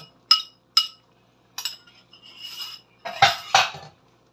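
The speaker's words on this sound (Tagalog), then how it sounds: "halo-haloin lang natin idol at malapit na po natin itong i-serve" Spoon clinking against a cooking pot while mung bean stew with malunggay leaves is stirred: a few sharp, close metallic clinks, then a brief scrape, then two louder knocks against the pot.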